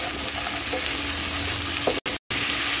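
Potatoes, peas, carrots and beans stirred in a hot pan, loud continuous sizzling with scraping stirs, briefly cut off near the end.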